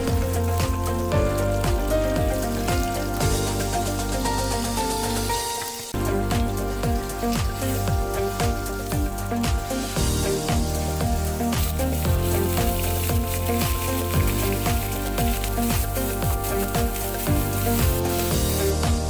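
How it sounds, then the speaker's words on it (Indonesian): Small anchovies (teri nasi) fry in a pan with a continuous crackling sizzle that runs steadily under prominent background music. "kita akan menggoreng teri nasi"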